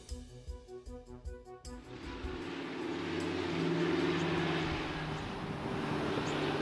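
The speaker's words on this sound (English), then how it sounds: "they heard the drone of the approaching aircraft" After a few seconds of music, a broad engine drone rises and holds steady, a continuous hum like an aircraft passing at moderate distance.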